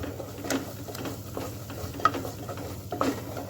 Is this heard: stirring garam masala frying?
yes